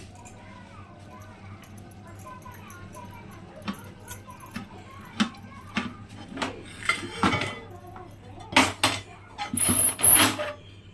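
A metal lid is set onto a pot of homemade biryani for dum cooking. Quiet kitchen hum is followed by a series of sharp metallic clanks and rattles that grow louder and more frequent toward the end.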